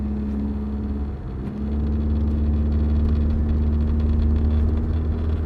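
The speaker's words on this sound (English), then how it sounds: "We'll come to a stop here and do a full takeoff, and that's with power on." An imported Toyota diesel car with a turbo pulls away from a stop under full power, a deep, steady engine rumble and drone that swells after a brief dip and holds at a constant level from inside the cabin, no talking.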